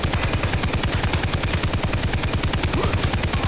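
Rapid, continuous machine-gun fire from the Far Cry 3 video game, loud and close, with evenly spaced bursts filling the whole stretch and no speech over it.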